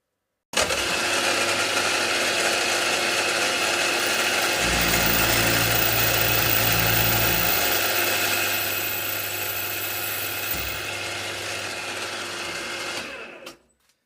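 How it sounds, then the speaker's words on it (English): A steady, continuous power-tool whir runs for several seconds, loud and close, drilling a hole in a model live-steam locomotive lubricator part, with a deeper loaded tone midway as the bit bites, then cuts off. "So while I'm drilling, I can drop it down a little bit so it's held a bit more securely."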